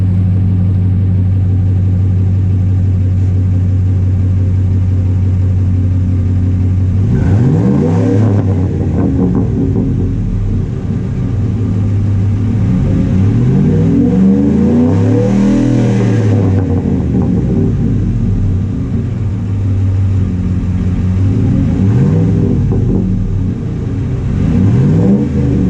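A 2005 Ford F-150 fitted with a cold air intake idles with a deep, steady rumble, then revs repeatedly in rising and falling sweeps, loud and close to the exhaust, with no talking.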